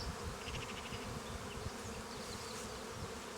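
Around open hive frames, a swarm of bees keeps up a thick, even buzzing hum, near and unbroken, with an occasional single bee whining a little closer.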